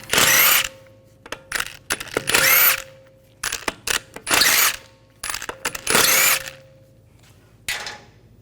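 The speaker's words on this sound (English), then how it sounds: "Now we're going to remove the lug bolts." A power ratchet fitted with a 17mm socket loosens the lug bolts on a 2011-2018 Volkswagen Jetta wheel, giving several loud, close bursts of whirring ratchet noise with short gaps between them.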